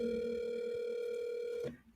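A steady telephone ringback tone hums on a call line for under two seconds before cutting off abruptly as the call is hung up, close and clear with no voices.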